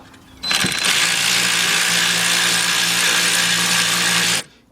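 A power tool whirs on a bolt of a 2007–2010 Audi A8 Quattro starter, one loud continuous burst of about four seconds starting abruptly and cutting off cleanly, close up.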